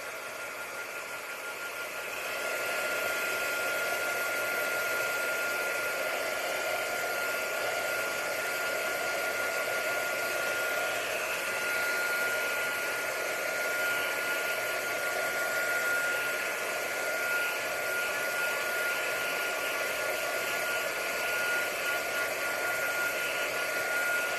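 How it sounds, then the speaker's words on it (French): A hair dryer blows steadily while drying paint on a card background, starting after a brief softer moment and then holding an even whirring hiss at moderate, close volume with no speech over it. "Je vais faire sécher mon fond de carte."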